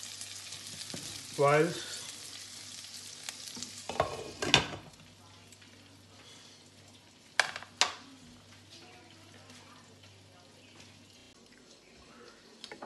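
Cumin seeds fry in mustard oil with a faint, steady crackle, broken by a few short scrapes and clinks of a spoon against the pan.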